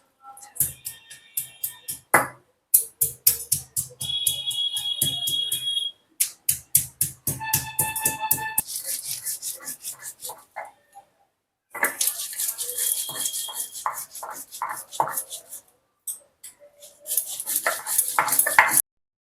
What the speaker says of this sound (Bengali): এটা আমি সিলেই পেস্ট করে নিচ্ছি